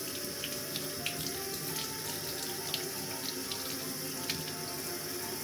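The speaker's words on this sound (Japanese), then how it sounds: "梅は優しく水洗いします。" Ume plums rinsed gently under a running kitchen tap, a steady close hiss of flowing water with faint splashes and small clinks throughout, no talking.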